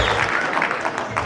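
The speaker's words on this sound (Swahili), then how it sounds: "makofi mara nyingine anapochukua microphone" An outdoor burial crowd in Narok claps for Raila Odinga, a dense, steady patter of applause near and loud for the whole moment, with voices mixed in.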